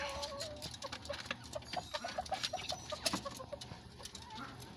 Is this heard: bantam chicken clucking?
yes